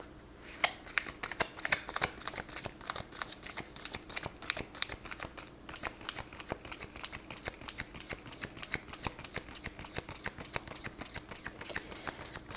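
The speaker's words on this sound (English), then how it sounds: "Let me finish that shuffle." Tarot cards are shuffled and riffled in a rapid, steady stream of crisp clicks, close and continuous with no talking.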